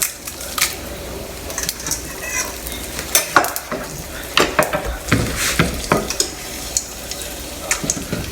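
Mustard seeds, asafoetida, cumin and dry red chilies sizzle in hot oil in a pan, with seeds crackling and popping irregularly over a steady frying hiss, plus occasional stirring and clinks of utensil on metal. No one speaks.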